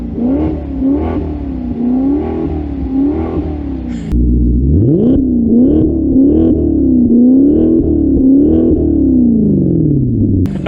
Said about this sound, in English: So I put it in a neutral really quick to give it a couple of revs.